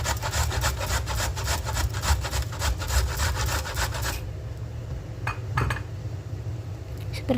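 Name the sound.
grating peeled cassava with a sawut grater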